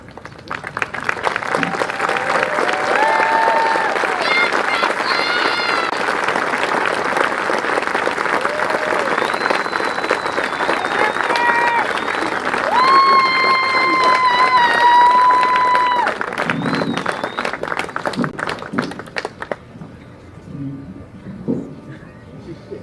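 Sustained audience applause at the 2024 Top 100 ceremony, a dense, loud roar of clapping with cheers and whoops on top, fading out toward the end.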